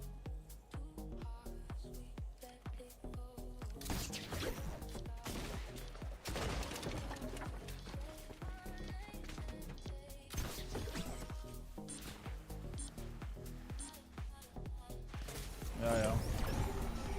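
Rapid bursts of video game gunfire, sharp repeated shots over a busy electronic background, with occasional voices talking.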